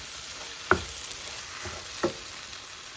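Onion masala sautéing in a pan for Kerala-style prawn roast, a steady quiet sizzle broken by two soft stirring scrapes, with no talking.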